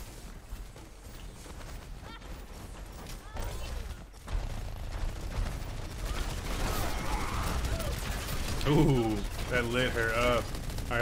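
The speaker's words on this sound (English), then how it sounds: "This widow just keeps shooting at my shield" Gunfire and shots striking a shield during an Overwatch match, a steady patter of rapid shots and mechanical clatter under a player's talking, building louder toward the end.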